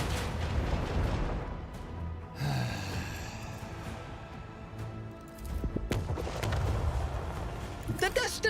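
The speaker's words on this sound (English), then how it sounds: "Commence torpedo launch." A space warship in a video game fires a macro cannon barrage and launches torpedoes: dense, rumbling booms and blasts roll continuously under busy game audio, with a sharper burst of impacts near the end.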